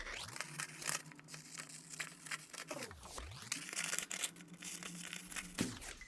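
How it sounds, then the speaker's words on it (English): Paper pattern sheets are cut out along marked lines, with faint crinkling and tearing-like rustles of paper throughout a quiet background. "According to the marks on them, cut out the pattern along the indicated lines."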